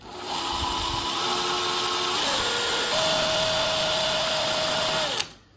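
A power drill bores steadily through a lock cylinder, a loud continuous whine that shifts pitch partway through as the bit works the pins, then winds down abruptly at the end.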